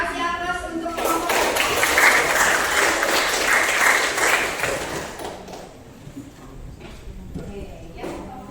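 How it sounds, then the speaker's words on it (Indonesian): A classroom group gets applause from students as it steps up to present, clapping loud and dense for about five seconds before fading out, with voices talking over it. "Kasih aplaus untuk kelompok."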